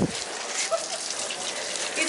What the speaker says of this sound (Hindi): डब्बा पर पानी पूरा डुलन गया देखो।